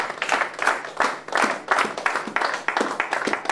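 A church congregation at an evangelistic service claps and cheers in praise to God, a dense, steady roar of many hands with bursts of voices, loud and continuous throughout.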